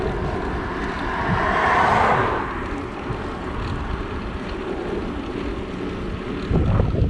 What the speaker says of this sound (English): Still lovely, it's just really windy, so I'm fighting against the wind up this hill.